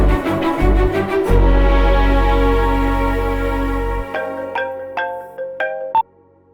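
A phone rings in a dubbed movie scene, its electronic tone repeating in short melodic bursts, loud and clear with no talk over it, then cutting off abruptly.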